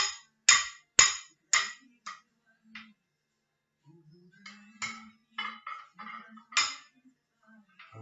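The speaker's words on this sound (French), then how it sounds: "Je remue pour mélanger avec le basilic" A spoon stirring vinaigrette with basil and shallot, sharp metallic clinks against the bowl in uneven bursts, close and clear, with faint talking in between.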